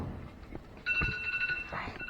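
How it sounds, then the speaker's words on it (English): A phone alarm rings, a bright electronic tone sounding for about a second over background noise, close and clear amid handling sounds. "That's my alarm that says I have to go get ready for work"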